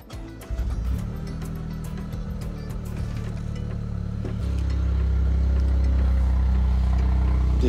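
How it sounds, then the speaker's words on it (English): A 2023 Toyota GR Corolla engine cranks and starts, then settles into a loud, steady low exhaust rumble that deepens and grows stronger as it idles. "So I'm gonna show you how it sounds when you start the car."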